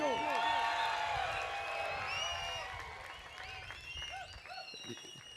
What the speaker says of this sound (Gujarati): જોરદાર તાળીઓ, ચીસો ને સીટીઓ.